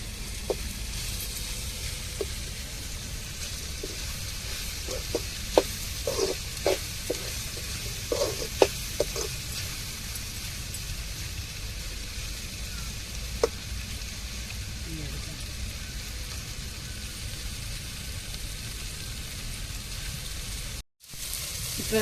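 Okra sizzles steadily in hot oil in a home kitchen, a continuous soft crackle with occasional stirring clicks and scrapes, fairly quiet and close, with no talking over it.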